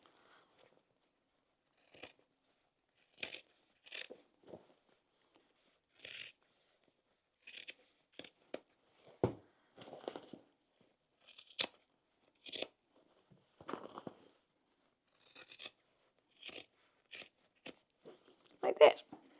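Fabric scissors snip along a seam, trimming close to the top stitching on a sewn crossbody bag, giving a steady series of short, crisp cuts in a quiet room.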